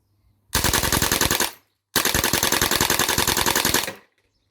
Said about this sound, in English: Put it on fully automatic.